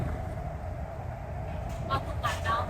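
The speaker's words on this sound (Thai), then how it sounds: "นี่รถไฟในสนามบิน" An airport train in Hong Kong gives a low, steady rumble and rattle, with brief voices near the end.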